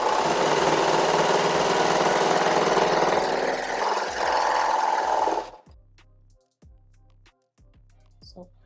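A BabyLock Victory serger sewing stitches, a loud continuous motor hum for about five seconds that stops abruptly, followed by quiet faint clicks and handling sounds.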